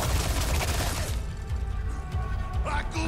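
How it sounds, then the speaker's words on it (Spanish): Gunfire in Resident Evil 4 Remake on PS5: a burst of loud, rapid shots fills the first second, then quieter mechanical clatter and scattered impacts, with no talking. "Están tiroteando."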